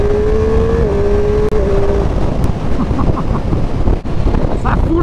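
Triumph Street Triple 765 three-cylinder engine hums while riding, a steady droning tone that shifts pitch with the gears, heavily buried under roaring wind noise at the helmet.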